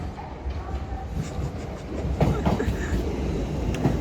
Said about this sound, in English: now we have another Azuma. This one bound for London Euston